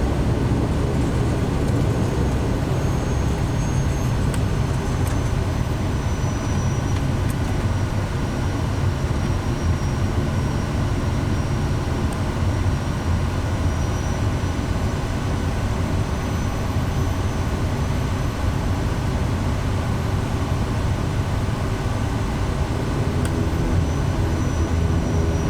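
A Kodiak 100 turboprop engine in Microsoft Flight Simulator 2024, throttled back to low idle on a runway, gives a steady, unbroken close drone with a constant whine.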